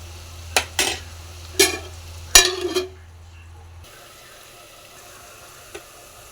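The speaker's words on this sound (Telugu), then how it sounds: "లేకపోతే ఆనియన్స్ అనేవి మొత్తం మాడిపోతాయి. కాస్త ఇంకొంచెం ఫ్రై అవనివ్వాాలి." Onions frying in a pan for Telangana-style boti curry are stirred in a few quick scraping bursts with a soft sizzle beneath, then the pan settles to a faint sizzle with one last light clink.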